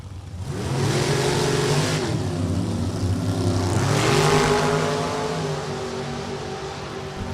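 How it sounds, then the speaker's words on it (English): A Gold Rush Trailers dragster racing at Maple Grove Raceway in the Lucas Oil Drag Racing Series, a loud sustained engine roar that swells and shifts pitch twice as it pulls away, alone and heard from a distance. "Philip Langford, Langhorne, PA, the Gold Rush Trailers dragster."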